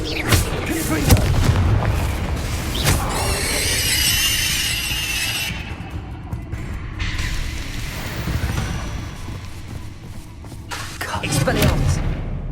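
Confringo blasting spells burst repeatedly in Hogwarts Legacy gameplay, booming impacts with crackling, squealing magical flares erupting amid battle noise, recurring across the stretch with a loud final blast.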